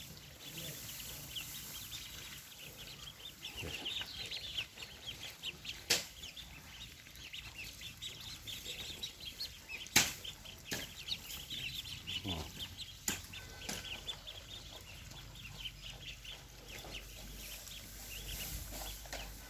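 Eight-day-old poultry chicks on a farm cluck and peep softly as they drink fermented water, with scattered faint calls and light rustling and pecking taps throughout.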